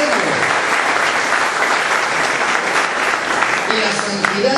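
A church congregation applauding during a sermon: steady, dense clapping from many hands that holds evenly for several seconds before starting to thin out at the end.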